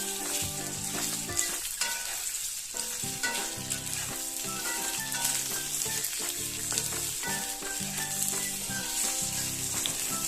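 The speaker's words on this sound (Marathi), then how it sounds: "आता यामध्ये या वाफवलेल्या टिक्क्या किंवा नाश्ता जो आहे तो आता परतून घेऊया" Steamed poha and semolina pieces sautéing in a pan, giving a loud, steady sizzle and crackle with occasional soft stirring scrapes.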